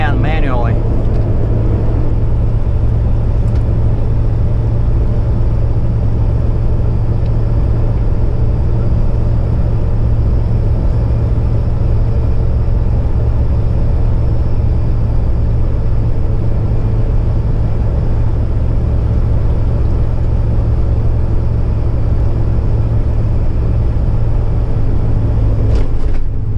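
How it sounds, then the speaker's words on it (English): Overheating truck engine idling and running in rush hour traffic in hot weather, a loud continuous low rumble and hum that stays steady for nearly half a minute, with a person talking over it. "My poor truck is overheating."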